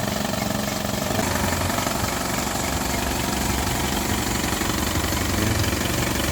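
An Isuzu MU-X engine running under the open hood, giving a steady, close, loud idling drone with a constant low rumble and no breaks.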